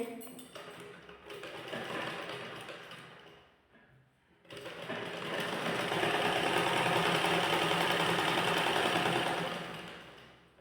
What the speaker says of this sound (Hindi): बराबर करते हुए इस तरह से हम सिल लेंगे।